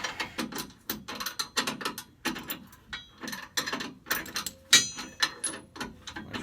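A ratcheting box end wrench tightens trailer hitch bolts on a 2016 Toyota Tacoma, giving close, crisp clicking bursts in a quick uneven rhythm of short strokes with brief pauses between them.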